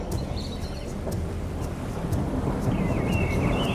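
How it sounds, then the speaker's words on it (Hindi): Steady rain falling with low rumbling like distant thunder as a story sound effect, continuous and moderately loud throughout with no voices. "कुछ ही समय बाद बारिश शुरू हो जाती है।"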